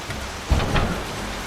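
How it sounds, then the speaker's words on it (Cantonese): Heavy nighttime rain pours down in Bali, a dense, steady hiss of drops on surfaces with a brief low rumble or thump near the middle, close and continuous throughout. "超級大雨"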